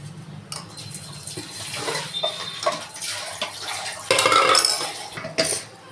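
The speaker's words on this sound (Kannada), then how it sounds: "ನಾನು ಇನ್ನೂ ಸ್ವಲ್ಪ ನೀರು ಹಾಕ್ತಾಯಿದ್ದೀನಿ." Water is poured into a batter for avarekalu sambar, a close trickling and splashing with light clinks of a utensil against the bowl, growing louder toward the end.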